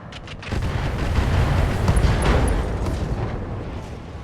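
Heavy cannon and weapon fire strikes a tank in the mech combat game Roguetech/Battletech, a loud booming barrage that rumbles on for several seconds with layered impacts and no talk.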